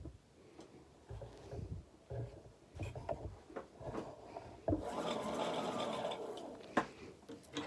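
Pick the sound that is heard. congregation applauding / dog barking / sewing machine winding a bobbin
sewing machine winding a bobbin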